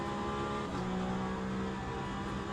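A Porsche RSR race car in a sim racing game holds a steady, loud engine drone with a constant rising whine throughout, close and uninterrupted, with no talking.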